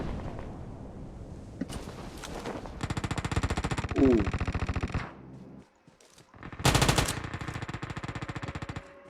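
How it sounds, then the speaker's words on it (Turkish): Rapid bursts of automatic gunfire in PUBG Mobile, loud and close, in several long volleys separated by brief pauses, with a few single shots mixed in. "Çok yakından silah sesleri geliyor var ya."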